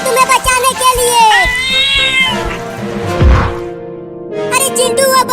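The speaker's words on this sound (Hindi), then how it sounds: "अरे चिंटू, वो बड़ी बिल्ली भी पाइप के अंदर चली गई अपने बाबू को बचाने के लिए" A large cat meows loudly and repeatedly close up, drawn-out wavering cries with a caterwauling quality, ending in further rapid meows.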